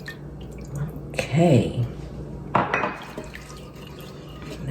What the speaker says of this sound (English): to the chicken stock, guys, I'm going to add milk, some cold milk.